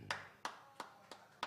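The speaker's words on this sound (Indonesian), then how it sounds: "tepuk tangan untuk Lai saya yang luar biasa" Faint, sparse hand claps from a live Batak band show audience, five separate claps spaced roughly a third of a second apart, quiet and distant.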